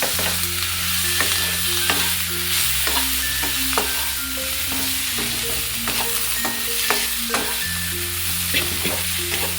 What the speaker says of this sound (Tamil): குறைச்சிட்டு நிதானமாக அப்படியே வதக்கி விட்டு ஃப்ரை பண்ணிக்கலாம்